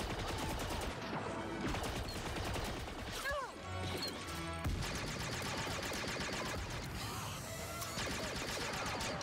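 Dense bursts of blaster gunfire and explosive crashes from a grenade in the video game Star Wars Outlaws, continuous and chaotic with layered effects and a brief lull in the middle.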